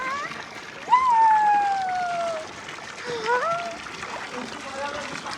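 Water runs from a tap into a tub in a continuous, moderate splashing stream, heard under children and adults chatting nearby.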